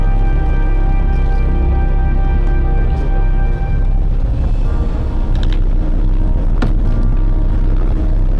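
Smaller passenger ferry near Auckland, New Zealand, with its engine droning low and loud, steady throughout, while water rushes and wind buffets the microphone, plus a few faint knocks.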